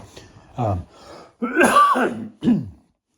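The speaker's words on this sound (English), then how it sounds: "I got a bit of a pretty bad cough and chest infection" A series of harsh, chesty coughs from a chest infection and throat clearing sounds, close and loud, in several bursts.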